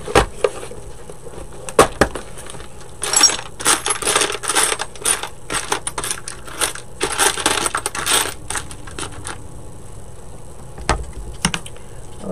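Short metal screws rattle and clink as a hand rummages through them, with sharp close clicks, a dense stretch of jingling scraping in the middle, then a few scattered taps, and no voices.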